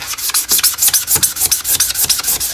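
A Mr. Clean Magic Eraser scrubs dry paint off a hardwood surface in quick, loud, rhythmic back-and-forth strokes, a close, dry scuffing with no speech.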